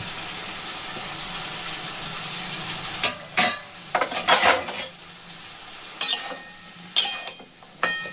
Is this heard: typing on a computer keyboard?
no